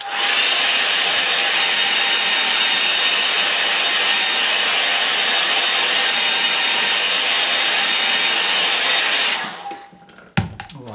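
A hair dryer blows steadily and loudly over a watercolour painting for about nine seconds, then cuts off, leaving a brief clatter and quieter room sound.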